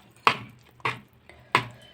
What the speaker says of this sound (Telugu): ఇప్పుడు దీన్ని కూడా మంచిగా కలుపుకుందాం.